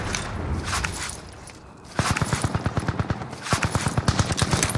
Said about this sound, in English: Dude, he's shooting me.